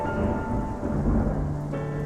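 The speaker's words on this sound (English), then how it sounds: "The rain hits harder. Thunder rumbles and screams violently." Steady heavy rain with deep rumbling thunder during a storm, continuous and loud throughout, with a low rolling rumble beneath the downpour.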